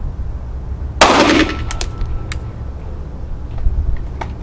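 Pistol gunshots from a KelTec P17 or Sig P365XL, a sharp crack with a short ringing tail, followed by faint clicks and taps against a steady outdoor rumble.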